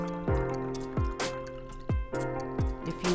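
White sangria poured into a glass, giving a few soft, separate splashing plops at an uneven pace, quiet and close, with no talking.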